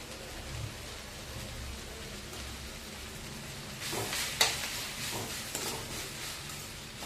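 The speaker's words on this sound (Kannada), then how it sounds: "ಒಂದು 2 ನಿಮಿಷ ಮೆಂತ್ಯ ಪಲ್ಯ ಫ್ರೈ ಆಗಲಿ." Fenugreek leaves fry as a menthya palya stir-fry in a pan, giving a steady close sizzle with a few louder scraping stirs partway through and no talking.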